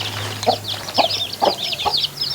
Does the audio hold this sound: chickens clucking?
yes